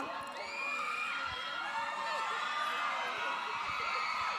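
A crowd at a Miss Grand Thailand press event cheers and shouts continuously, with high excited voices and whoops forming a dense, steady roar throughout.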